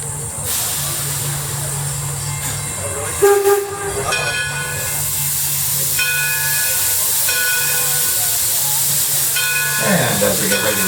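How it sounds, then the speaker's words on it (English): A steam train on the Greenfield Village Railroad sounds its whistle at a station: several loud, sustained chime-like blasts come over hissing steam and the rumble of the waiting engine. "and then the whistle will sound."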